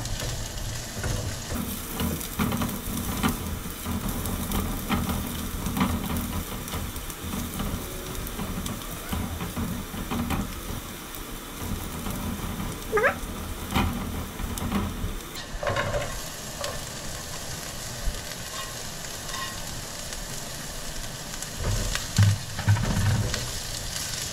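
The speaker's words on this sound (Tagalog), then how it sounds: "Ang pinakamagandang tunog ay ang pagigisa." Food sautéing in a pan, with ground beef about to be added, sizzling steadily and loudly with occasional stirring scrapes and spoon clinks close up.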